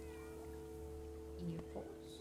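A cat in a video game gives a few plaintive meows against a steady low hum of background music.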